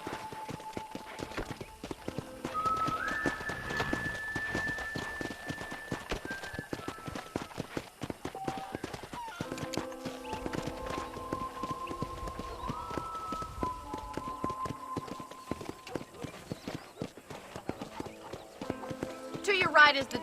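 Steady clip-clop of horse hooves trotting in the Red Dead Redemption video game, a fairly quiet continuous rhythm lasting throughout, with a person speaking over it and faint musical tones.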